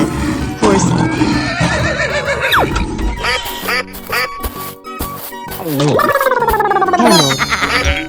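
A cartoon horse in a 3D animal slide video game lets out a loud, wavering whinny that rises and falls. Other quacking and squealing game sounds follow and overlap it.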